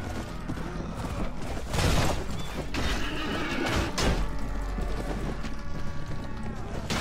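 Horses in battle in the Warband mod Floris Expanded: hoof clatter, creaking gear and mechanical clanks from a melee, with louder thumps and bursts around the two- and four-second marks and faint voices underneath.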